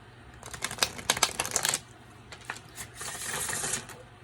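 Rapid papery riffling and soft clattering of a tarot deck being shuffled up close, in two quick bursts separated by a short pause.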